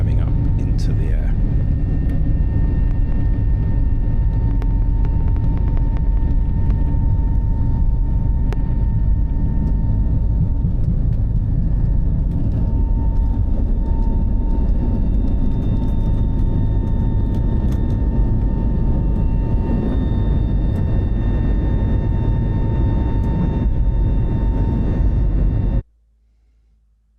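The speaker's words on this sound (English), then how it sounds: "the crew advance the throttles and we're off underway on our journey up to Manchester, heading along runway 27 right, climbing up into the air." British Airways A320neo jet engines roaring steadily at full takeoff power on runway 27 right at London Heathrow, heard from inside the cabin as a loud, constant broadband rumble with tonal whine, cutting off abruptly near the end.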